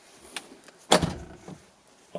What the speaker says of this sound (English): When I close this door, listen to this thud.